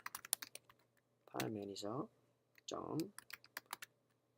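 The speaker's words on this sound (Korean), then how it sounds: "그래서 26번째 라인부터 쭉 타이핑을 쳐 가보겠습니다" A computer keyboard is typed on in quick, crisp bursts while someone writes code, with a voice speaking briefly between the keystrokes.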